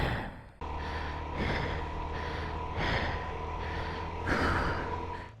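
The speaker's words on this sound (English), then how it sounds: "It does pick up everything. The panting, in your defence." A motorcycle rider on a Suzuki DR-Z4S trail ride breathes heavily, with repeated loud gasping pants in an uneven rhythm over a steady engine drone, close to the microphone.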